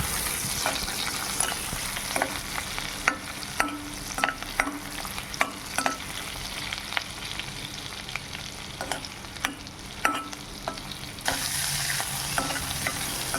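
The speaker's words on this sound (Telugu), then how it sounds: "అందులో సన్నగా తరిగిన అల్లం ముక్కలు, వెల్లుల్లి ముక్కలు వేసుకొని బాగా కలుపుకోవాలి" Finely chopped ginger and garlic fry in melted fat while being stirred steadily, a continuous close sizzle broken by repeated scraping strokes of the spoon; no voices.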